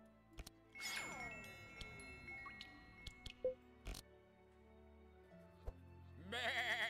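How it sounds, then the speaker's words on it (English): A sheep bleats in the video game Across The Obelisk amid chimes, clicks and other game effects, fairly faint, with no talk. "Murder the sheep."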